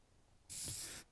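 Texture spray hisses from an aerosol can onto hair in one steady, close burst of about half a second, starting and stopping sharply.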